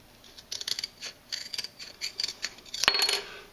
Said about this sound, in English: Let's see what happens if I try to cut this with scissors.